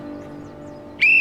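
A single sharp, shrill whistle blast starts suddenly after a quiet hum and holds loud and steady for a moment at close range.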